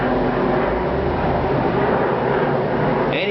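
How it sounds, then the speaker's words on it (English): Jet aircraft passing overhead, a steady broad roar filling the whole clip at even loudness with low rumble beneath. "Now we got a jet going over."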